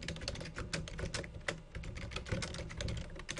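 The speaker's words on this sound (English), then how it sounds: "So I've obviously typed in the text." Steady typing on a computer keyboard, a dense run of quick key clicks at close range with no talking.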